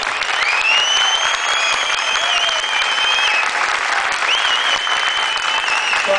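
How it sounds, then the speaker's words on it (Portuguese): Audience applause at an anime event tribute, loud sustained clapping from a crowd throughout, with a few faint whistles and cheers mixed in. "eu gostaria de pedir mais uma salva de palmas em nome da direção da Anima."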